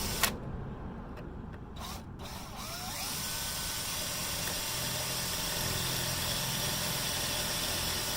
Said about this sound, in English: I decided I'm going to drill a pilot hole.